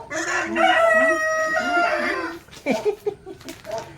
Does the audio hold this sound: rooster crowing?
yes